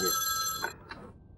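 A telephone rings in an office with a single bright, buzzing electronic ring that stops abruptly, followed by a couple of faint clicks and handling sounds.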